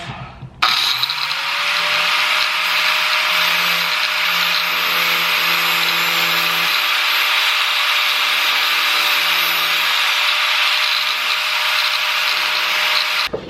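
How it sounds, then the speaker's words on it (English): A grinder cuts into a car fender, giving a loud, steady, abrasive whine with a constant pitch that runs for about thirteen seconds without a break. "So I'm gonna grind some of this fender off."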